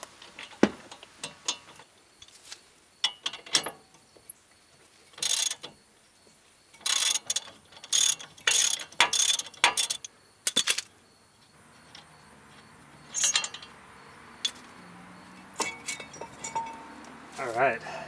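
An 18mm wrench and breaker bar loosen the brake caliper bolts on a vehicle, giving bursts of metallic clinks, clanks and ratcheting clicks separated by quiet pauses.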